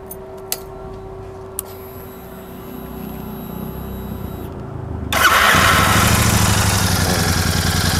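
Royal Enfield Super Meteor 650 motorcycle with a stock exhaust: a few faint clicks and a steady hum, then the engine cranks and fires into a loud, rough, rumbling idle that holds to the end.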